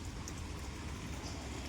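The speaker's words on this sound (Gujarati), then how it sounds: "વાદળ તો છે અને વરસાદ બી થોડો આવ્યા કરતો છે" Light rain falling outdoors in a green rural village under cloudy skies, a soft even hiss of drops with no other sounds, faint and steady.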